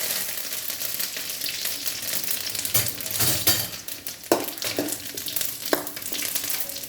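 Shallots, green chillies and curry leaves fry in hot oil in a pan, giving a steady close sizzle with a few louder stirring scrapes and clatters, and no one talks.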